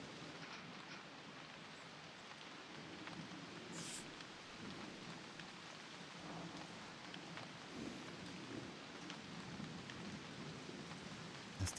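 Rain in the video game Season: A Letter to the Future, a faint steady patter with soft low rumbles, no voices.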